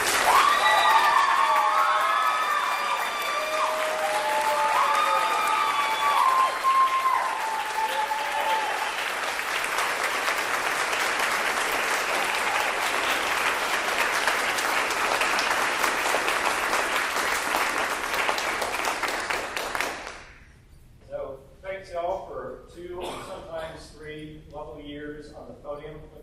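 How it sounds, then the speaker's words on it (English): At a spring wind ensemble concert, the audience applauds seniors with sustained loud clapping and some cheers and whistles, lasting about twenty seconds before fading as a voice starts talking. "Give them a round of applause."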